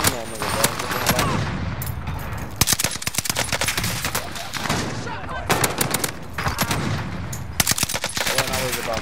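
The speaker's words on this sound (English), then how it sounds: "Pink, all you gotta do is shoot, bro." Video game gunfire: rapid automatic bursts and single shots crackling loudly and repeatedly in short clusters, with brief pauses between volleys.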